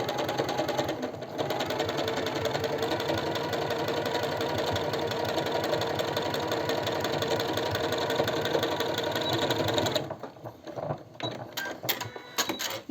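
Domestic sewing machine stitching a fabric cosmetic-bag organizer across a seam, a steady rapid mechanical whir running loud and continuous for about ten seconds before stopping, followed by a few faint handling clicks.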